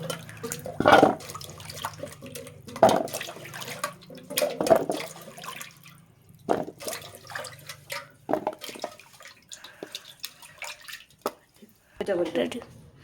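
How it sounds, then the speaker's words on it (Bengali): Peeled, cut taro stems are washed and strained in water, giving intermittent nearby splashes and drips with quiet gaps between. "ধুয়ে ধুয়ে এটা ছেঁকে নেব"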